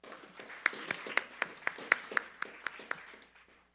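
A small group at a business law event gives brief, sparse applause, with about a dozen distinct claps in a loose rhythm, fairly quiet and fading out after a few seconds.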